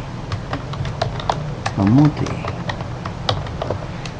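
Rapid, evenly spaced computer keyboard taps run throughout, close and crisp, as text is entered into a CPU OS simulator program; a brief voiced sound rises over the typing midway.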